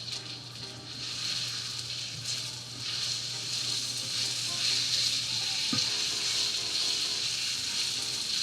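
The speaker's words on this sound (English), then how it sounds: "These slices, as I stir them, they're going to break apart." Apple slices cooking in a pan and stirred until they break apart, giving a continuous close sizzle with soft stirring scrapes and a brief knock near the end, and no voices.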